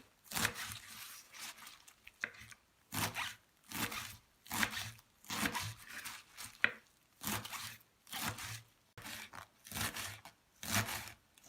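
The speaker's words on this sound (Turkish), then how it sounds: "Şöyle marullarımızı ince ince doğrayalım." A knife finely chops lettuce rapidly on a cutting board in quick bursts of crisp strokes, with short pauses between runs, close and fairly quiet.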